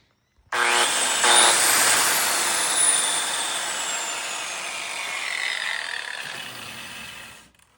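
Wire brush on a large angle grinder spins up abruptly and scours metal on an old Monaco, a loud harsh whine and grinding rasp that holds steady for several seconds before winding down.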